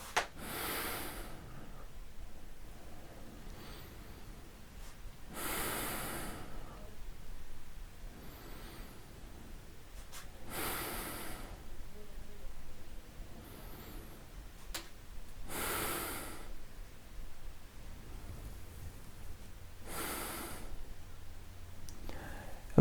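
Deep outward breaths during a gentle seated Pilates class, about five soft, evenly spaced exhalations separated by quiet pauses, with faint whispered speech between.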